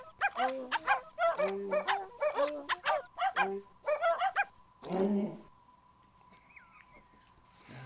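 Recorded dog barks pitched to play the melody of Mozart's Eine Kleine Nachtmusik, a quick rhythmic run of loud, close yelps that stops after about five seconds and gives way to faint electronic tones.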